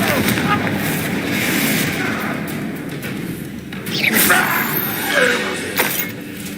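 A Confringo fire-blast spell explodes during a goblin fight in Hogwarts Legacy, with heavy booming bursts swelling out of continuous battle rumble, the loudest crashes landing near the end.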